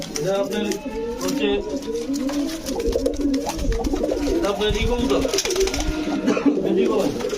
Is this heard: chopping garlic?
no